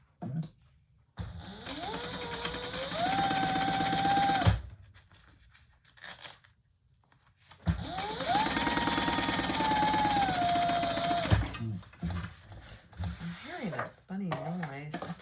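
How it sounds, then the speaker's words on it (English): A sewing machine stitches leather for a retro-style sling bag, running in two sustained bursts with a rising whine, odd from a possible bobbin problem, separated by pauses with quiet handling noises. "Funny noise. I think it might be my bobbin."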